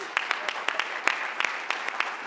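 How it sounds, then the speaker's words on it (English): Scattered applause from an audience at a labor union legislative-political conference, heard as a steady patter of many hands clapping with sharper individual claps standing out, moderately loud and continuous throughout. "Give her a round of applause."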